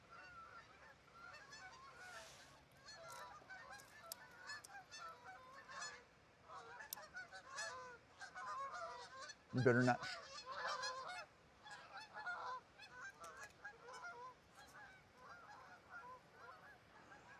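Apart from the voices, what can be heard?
geese honking by a river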